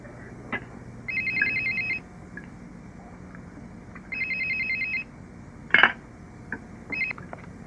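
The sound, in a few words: telephone ringing before Movie Phone service answers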